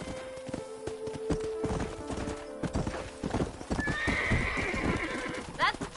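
Horses in a corral in the Red Dead Redemption video game: hooves clop on the ground and a horse gives a loud whinny near the end, with someone talking over the animals.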